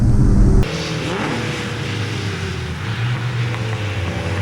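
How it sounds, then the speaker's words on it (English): Classic sports and saloon race cars, including a Peugeot, cross the finish line at a 2023 Scottish championship race. A loud, sustained engine drone roars close by and shifts abruptly as one car passes, then holds steady. "Here comes Adam Kinman in the 64 car in third, and followed by Stephen Sadler in the Peugeot"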